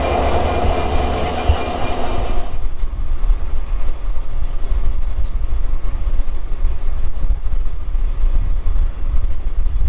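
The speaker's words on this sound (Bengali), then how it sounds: "ট্রেন এখন ঘন্টায় 90, 91, 95 কিলোমিটার এরকম গতিতে চলতেছে" A Ruposhi Bangla Express train hauled by a Class 66 locomotive runs at about 90–95 km/h in Bangladesh. A loud, steady rumble fills the clip, heaviest for the first couple of seconds, then settles into a continuous rolling roar with no voices.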